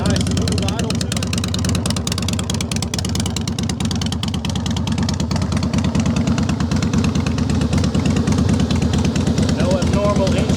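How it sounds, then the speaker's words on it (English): Harley Davidson Softail Standard FXSTI motorcycle idling, a loud, steady, rhythmic low engine rumble throughout, with someone talking over it. "Starts up nice and easy. This bike has been through our service shop, so it's ready to ride. Nice smooth idle to it."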